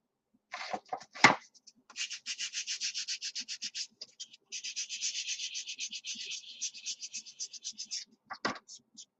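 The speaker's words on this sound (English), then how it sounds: "just sand those off" Sandpaper strokes take bumps off the edges of small craft pieces for a gnome craft project, in two long runs of rapid back-and-forth rubbing, close but soft, framed by a few brief handling knocks.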